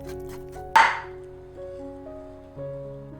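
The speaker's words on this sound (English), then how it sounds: "Be careful to cut the tofu. This is a firm tofu." A knife slices through a block of firm tofu with one sharp cut against the board, followed by a few soft thuds of the blade settling, while quiet tonal background music plays underneath.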